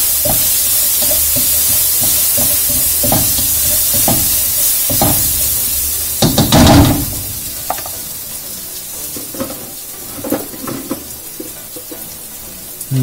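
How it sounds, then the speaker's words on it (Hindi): Crab masala fries and sizzles in a hot pan as crushed whole coriander goes in. The steady hiss runs under repeated scraping stirs, with a louder burst of sizzle midway, and nobody speaks. "साबुत धनिया थोड़ा सा इसको मैं क्रश करके इसमें डालूंगा, इसको साथ साथ में हिलाता जाऊँ"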